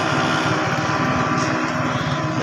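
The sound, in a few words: motorcycle engine running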